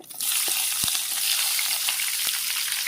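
Onion pieces sizzle in a hot tempering of oil with curry leaves and asafoetida for a ridge gourd curry: a dense, even crackle close by, with a couple of soft clicks from the pan.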